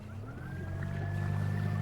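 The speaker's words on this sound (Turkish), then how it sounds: "Motor şakıyor. Şakır." A small boat motor hums and putters steadily at close range, a continuous low droning tone with no talking.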